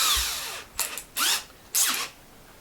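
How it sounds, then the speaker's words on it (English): A hole saw bores through the wood of a homemade birdhouse in three short, close bursts of whirring, with brief pauses between them. "use our circular saw to drill a nice accurate hole"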